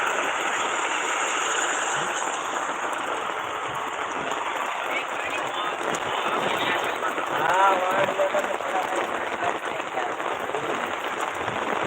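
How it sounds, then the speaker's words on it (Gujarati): Heavy rain pours down steadily over a farm in a dense, continuous hiss with no breaks, while people talk under the downpour. "ચાલુ વરસાદ ચાલુ છે હા જોરદાર બારિશ"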